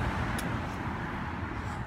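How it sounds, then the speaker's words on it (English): Cars pass on a busy street, a steady broad rumble and hiss of road traffic close by and fairly loud, with no talking. "There's cars, it's loud."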